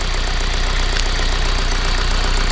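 A Vauxhall Vivaro 2.0 engine idling close by with a steady, rough rhythmic knock and vibration, loud and continuous, heard without talk, after a power steering pump has been installed.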